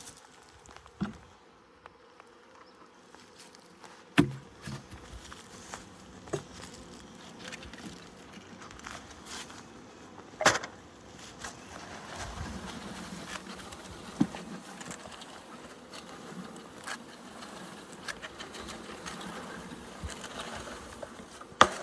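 Honeybees from a shipped package buzz faintly and steadily as they are shaken into a hive, with occasional knocks and taps of wooden hive parts over the low drone.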